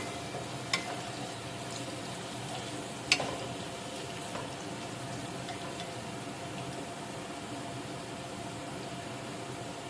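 Nigella seeds (kalonji) frying in a pan over a medium gas flame, a steady close sizzle and hiss throughout with a couple of faint clicks, no voices.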